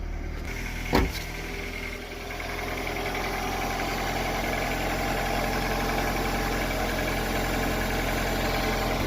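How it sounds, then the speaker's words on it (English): A Honda Accord (CG6), just fitted with a new transmission, settles into a steady idle right after starting, with a brief sharp knock near the start and then a constant low engine hum up close. "Okay, car started."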